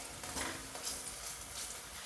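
Chillies and peanuts crackling in oil for a tempering, a faint, steady sizzle with soft scraping stirs and light pops.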